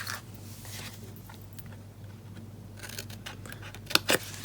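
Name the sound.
cutting into a paper treat box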